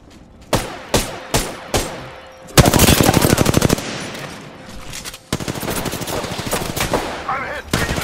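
Gunfire in a video game: a few single shots, then a fast burst of automatic fire, more scattered shots and another long rattling burst, all loud and close.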